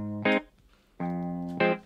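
Electric guitar run through a Super Clean effect preset in FL Studio for an Afrobeats track: three bright, clean plucked chords, each ringing briefly with gaps of quiet between, loud and close with no voices.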